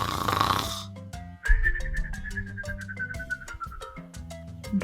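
A voice imitates snoring in a children's story about animals, giving a drawn-out, wheezy, whistling snore over light background music, close and clear.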